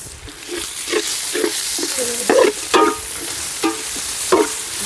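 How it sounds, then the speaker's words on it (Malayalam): Onions and green chillies frying in a pan, stirred with a spoon, give a steady loud sizzle broken by repeated scraping strokes, with no voices. "നമുക്കിതാ പച്ചമുളക് അതിനോടൊപ്പം തന്നെ വേകട്ടെ"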